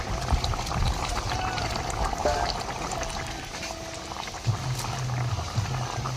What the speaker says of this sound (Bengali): ফুটে গেছে, ভেজে রাখা মাছটা দিয়ে দেবো।